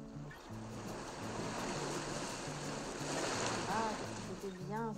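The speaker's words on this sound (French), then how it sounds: "bruitage des vagues que j'ai rajoutées au-dessus" Ocean waves added as a sound effect in Canva wash and surge continuously under a quiet voice-over, with someone speaking softly throughout.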